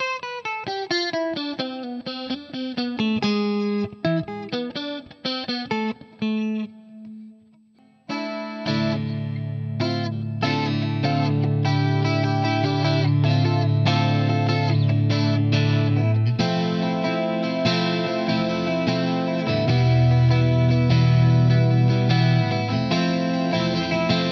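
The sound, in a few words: electric guitar on neck and middle pickups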